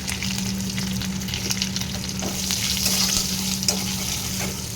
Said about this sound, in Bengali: কারি পাতা দিয়ে ভাজা করলে কারি পাতাটা ভাজা হয়ে গেছে